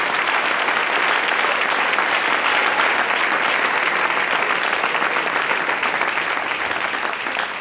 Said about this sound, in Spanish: Denle un aplauso al Rey en esta hermosa y preciosa noche.